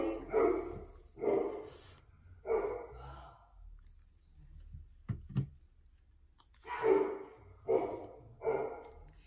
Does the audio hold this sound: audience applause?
no